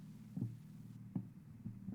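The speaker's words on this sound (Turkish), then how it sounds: "Kalp atış sesleri duyuyorum yaklaştı." Slow, muffled heartbeat thuds from the game Granny Remake repeat at a steady pace over a low, droning hum, with three distinct beats spaced evenly apart.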